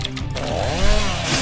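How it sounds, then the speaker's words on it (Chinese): A chainsaw weapon in the video game Infected Shelter snarls loudly, its engine pitch sweeping up and down as it revs and cuts, close and dominant with no speech over it. "电锯"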